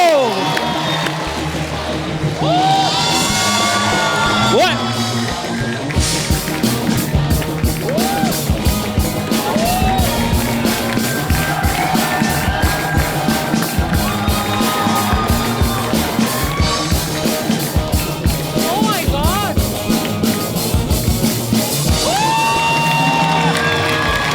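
A television comedy show's studio audience claps and cheers loudly for a Spider-Man character's entrance, with dense rhythmic clapping, whoops and shouts over music, sustained for the whole stretch.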